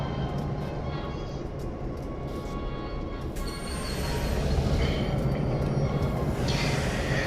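A train in a video game couples up to two coaches, with a steady rolling rumble, faint metallic squeals and clanks, swelling slightly louder partway through.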